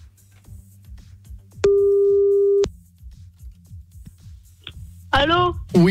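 A telephone busy tone after the other end hangs up, one steady electronic beep lasting about a second, loud and close. It sits between softer clicking noises, and a voice starts speaking right after it.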